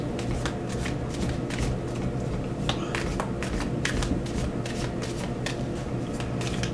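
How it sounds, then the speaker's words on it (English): Oracle cards shuffled for a tarot reading, heard as a continuous, close run of rapid papery riffles and slaps over a steady low background hum, with no talking. "Now we're going to start with some oracle cards and then move into the tarot."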